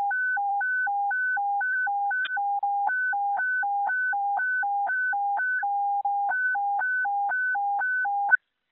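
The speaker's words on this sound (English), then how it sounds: "Sound the evacuation tone." Evacuation tone sounded over fire radio during a two-alarm structure fire, a steady repeating two-pitch alternating beep pattern, clear and continuous with brief breaks.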